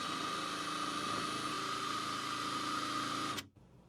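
A Maxmore 20 volt mid-torque impact wrench spins freely at its low speed setting, giving a steady, close, loud whine with an even motor hum that holds for about three and a half seconds and then cuts off abruptly.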